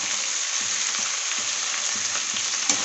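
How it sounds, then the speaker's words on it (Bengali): Onions and potatoes sizzling in hot oil in a pan, a steady, bright, hissing fry that holds constant throughout, with faint intermittent stirring knocks underneath and no voices. "কেটে রাখা পেঁয়াজটা লাল করে ভেজে নেবো। কেটে রাখা ডাঁটা আলু দিয়ে দেবো"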